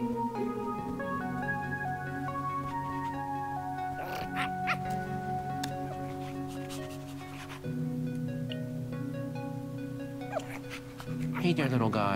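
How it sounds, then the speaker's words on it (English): A dog in the video game Minecraft Story Mode: Season 2, Episode 4 gives nasal, whining yelps and whimpers over a sustained musical background, in short repeated bursts. "Oh, the dog."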